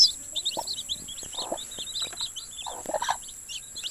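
Chicks peep in quick high repeated chirps close by, with lower clucking hen calls breaking in a few times, in a backyard poultry setting.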